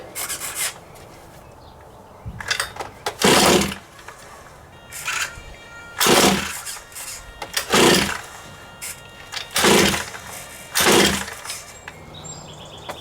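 Repeated pull-start cord yanks on a Rovan BM5 RC car gas engine that fails to catch, about seven sharp ratcheting pulls in an irregular rhythm, loud and close, with no engine firing between them.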